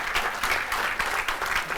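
An audience at a film-music master class held at a college during the Chennai International Film Festival gives a round of applause, a steady, dense patter of many hands clapping throughout.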